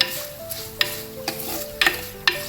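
Garlic and chili powder frying in hot oil for a Kasaragod-style okra chili curry, a soft sizzle broken by several sharp scraping stirs of a spoon in the pan.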